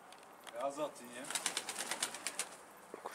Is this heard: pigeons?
yes